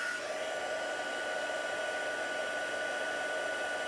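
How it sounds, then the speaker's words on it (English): A heat embossing gun warming up before melting gold embossing powder on a Christmas card gives a steady, loud whirring blow with a constant high whine, unbroken throughout. "Just letting the gun warm up a little bit first."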